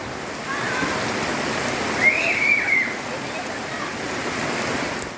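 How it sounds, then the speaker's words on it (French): Heavy typhoon rain pours steadily in a slum in the Philippines, a dense, constant wash of water that stays moderately loud throughout. A faint voice murmurs briefly in the middle. "Là, je me promène en plein typhon. C'est le déluge, comme vous pouvez voir."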